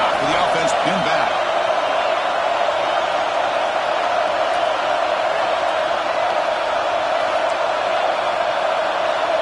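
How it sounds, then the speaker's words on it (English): A football stadium crowd roars as the defense tries to get a stop, making a loud, continuous din that fills the whole stretch without easing. "this crowd coming to life here trying to help the defense get a stop"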